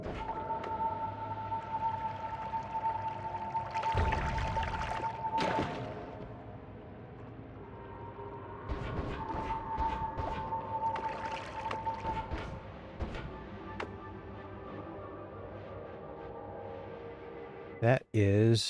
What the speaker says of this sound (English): That is the sound of an orb.